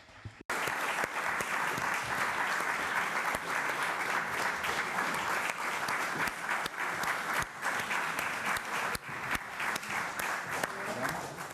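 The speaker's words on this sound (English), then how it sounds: "Let's proceed with an applause now to the cast of adults in the room" Sustained, dense applause fills a room at a 2019 film press conference as the cast and director arrive, steady and loud throughout with a few sharper claps poking through the wash.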